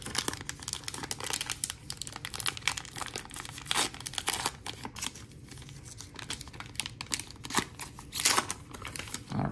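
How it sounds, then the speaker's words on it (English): A 2023 Panini Contenders football card value pack is torn open, with dense crinkling and tearing of foil wrapper and rapid crackles close by, followed by shuffling of cards, no talk. "let's get right to the ripping and see what awesome sauce cards"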